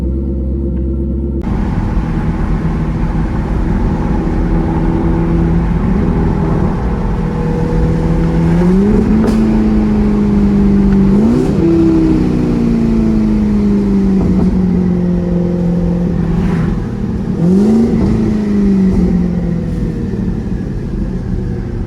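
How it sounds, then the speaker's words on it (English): A Chevrolet Corvette E-Ray pulls away and accelerates with a loud, close engine, its pitch rising in several gear-change sweeps over a steady rumble, with no voices. "I'm gonna pull off in the E-Ray"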